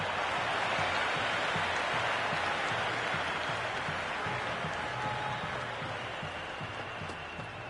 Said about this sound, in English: all these spectators here today are completely enthralled and energised, judging by that noise anyway